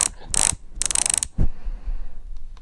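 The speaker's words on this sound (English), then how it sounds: "Let me see if I can hear the free hub noise here." A Shimano 105 R7000 rear hub spun by hand, its freehub giving bursts of rapid ratcheting clicks close by, followed by a thump and slower, fading ticks as it winds down.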